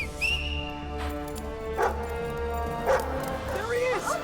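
A guard dog from the Wizards vs Aliens series gives a few short barks and yips amid people talking nearby.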